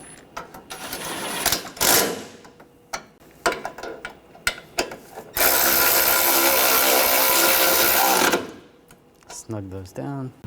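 Bolts being tightened on the front bumper impact absorber of a 2013-2019 Ford Escape, with scattered clicks and ratcheting under a man's speech and a long buzzing tool burst in the middle.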